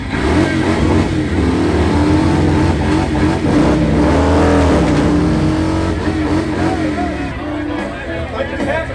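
A drag racing car engine revs hard and climbs through several gears to sixth, pitch rising and dropping with each shift, with crowd noise in the background.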